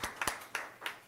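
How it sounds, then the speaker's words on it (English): A few scattered hand claps at a school board trustees meeting, sparse and quiet, three or four distinct claps over a second with no voices. "Could I have some applause for this young man?"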